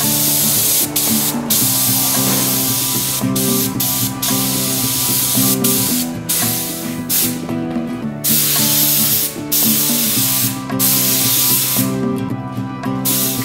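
Continuous hissing bursts of a spray gun spraying leather dye, close and loud, pulsing on and off in short repeated passes.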